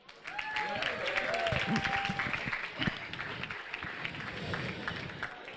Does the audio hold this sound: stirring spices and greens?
no